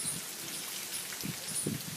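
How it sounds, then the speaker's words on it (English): Steady monsoon rain falling in India, a soft continuous hiss of drops with a few low patters and rustles, heard outdoors at moderate distance with no voices. "it's all really like wet, it's raining and the camera's going a bit blurry"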